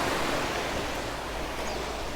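Strong sea waves wash steadily into a beach cove at Papaya Island Cove in Nasugbu, Batangas, a continuous loud roar of surf with no break and no voices.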